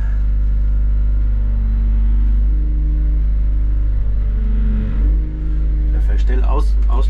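A vehicle engine held at a loud, steady rumble, then revved as the throttle opens, with a brief dip and rise near the end and a person speaking over it.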